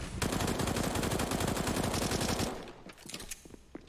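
Rapid submachine gun fire and other gunfire in a professional Counter-Strike match on the Nuke map, a loud dense burst of automatic shots for about two and a half seconds, then scattered fainter shots.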